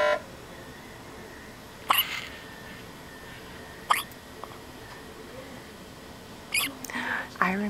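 A baby hiccups with tiny squeaks, a few sharp isolated catches spaced seconds apart over a quiet indoor room, with soft adult murmuring in between.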